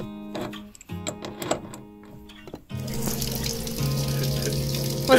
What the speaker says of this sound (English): We got hot water, baby!